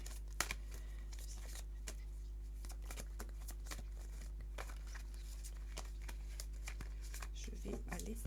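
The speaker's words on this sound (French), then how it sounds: "les cartes, ça résonne quand je les bats" Tarot cards being shuffled by hand, a dense run of soft crisp riffles and flicks repeating through the whole stretch over a steady low hum, with faint talk creeping in near the end.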